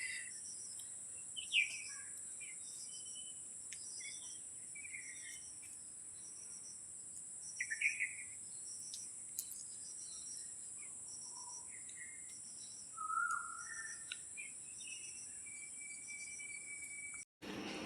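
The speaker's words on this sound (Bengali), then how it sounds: "পাখির আওয়াজ শুনতে পাচ্ছেন, কিচিরমিচির কিচিরমিচির আওয়াজ" Birds chirp and tweet among mango trees over a constant, close shrill drone of crickets, with scattered short calls that rise and fade throughout the quiet outdoor morning.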